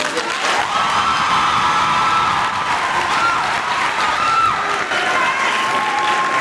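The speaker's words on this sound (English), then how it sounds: "A round of applause, guys, for the two speakers, motivational speakers." A youth expo crowd gives a round of applause for two motivational speakers, steady loud clapping filled out with cheers and whoops from young voices.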